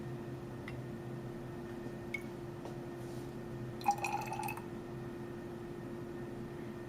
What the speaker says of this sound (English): I'm just adding up to 50 ml